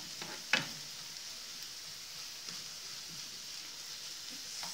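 Onions sautéing in a pan with ginger as chicken halang-halang is cooked, a soft steady sizzle with a brief louder crackle near the start, otherwise faint and even throughout.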